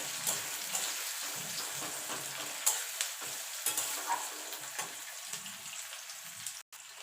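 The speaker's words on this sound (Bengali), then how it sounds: "পেঁয়াজটা একটুখানি ভাজা ভাজা করে নেব" Chopped medium onion frying gently in oil in a pan, a soft, quiet sizzle broken by light scraping and stirring clicks at an uneven pace, with no talking.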